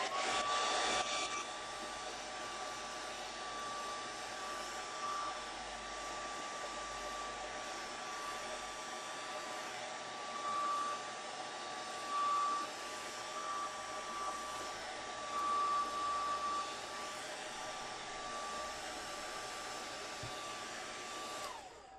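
A hair dryer blows steadily on a gelli plate print for crafting cards, a continuous close whir with a high whine that runs unbroken from start to finish with no talk.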